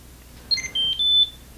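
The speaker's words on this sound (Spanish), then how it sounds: "emite este pitido bastante agudo para que podamos encontrar las llaves con facilidad" A Nokia Treasure Tag key finder gives a quick run of sharp, high-pitched electronic beeps, clear and close in an otherwise quiet room.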